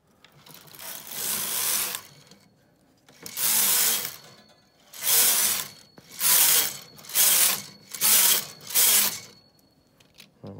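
Brother metal bed punchcard knitting machine, its carriage swept back and forth across the needle bed to knit rows, making loud rattling, whirring passes in a regular rhythm of about seven strokes with brief quiet gaps.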